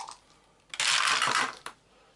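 Dice tumble and rattle across a tabletop during a game of Runebound, a dense clattering burst lasting under a second amid a quiet room.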